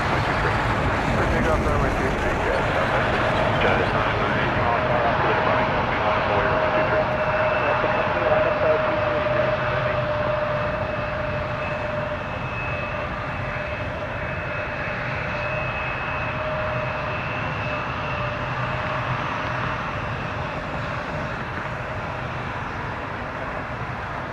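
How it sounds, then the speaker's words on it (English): Embraer 175 jet at Toronto Pearson airport, its engines a steady, loud broadband roar with a sustained whine running throughout, some wind noise mixed in. "this is an Embraer 175, Jazz 556, headed to New York City, JFK International"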